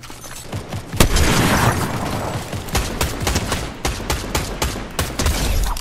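Rapid assault rifle fire in Fortnite, with loud, dense, repeated shots and booming impacts in a chaotic battle-royale fight, going on steadily without talk.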